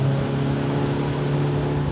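A 40 horsepower motorboat engine drones steadily as the throttle opens toward cruising speed, a continuous loud hum with a strong low tone and rushing wash of water, close and unbroken.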